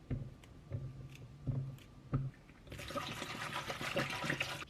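Grape juice pours in a continuous splashing stream that begins partway through, close and moderately loud, after a few faint knocks and handling sounds.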